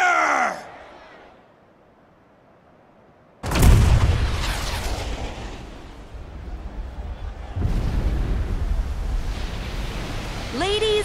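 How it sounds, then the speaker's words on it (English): A single huge blast from Junon's cannon in Final Fantasy VII Rebirth, a sudden deep boom after near silence that rolls into a long rumbling roar, with a second surge and a voice over it. "with a single blast of Junon's famous cannon, Rufus Shinra has announced his arrival."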